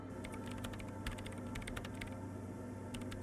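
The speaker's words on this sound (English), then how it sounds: "her hands typing hundreds of commands into the machine" Computer keyboard typing from the Disco Elysium video game, a steady run of quick key clicks over a constant low mechanical hum, fairly close and moderately loud with no talk.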